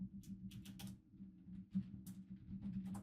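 Preset name typed on a computer keyboard, heard as bursts of soft, close clicking keystrokes in irregular runs over a low steady hum, with no speech.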